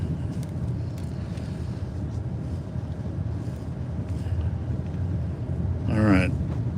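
Car driving along a road in Memphis on a clear day, steady low rumble of engine and tire noise with wind buffeting, swelling briefly near the end as something passes close.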